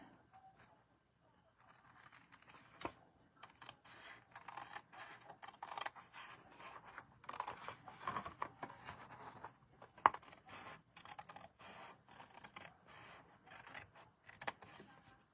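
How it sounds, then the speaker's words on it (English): Scissors snip through a folded greeting card panel in short, quiet cuts, an irregular rhythm of small crisp snips and rustles close by. "I'm going to just use my scissors tonight."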